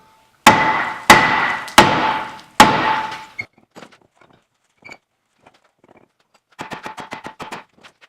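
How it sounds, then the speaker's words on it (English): Four loud ringing hammer strikes hit a Jeep Commander brake rotor to jar it loose during a wheel bearing job, followed by faint scattered clinks and then a quick burst of lighter rapid taps, close and without speech. "We'll give this rotor a little love tap and jar it loose."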